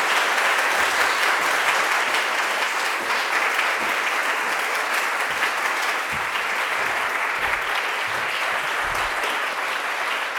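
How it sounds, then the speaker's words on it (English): An audience at a workplace diversity dialogue event gives steady, loud applause, a dense wash of clapping that lasts the whole stretch as a speaker is welcomed to the stage. "So let's welcome her with a round of applause, Jackie Glenn."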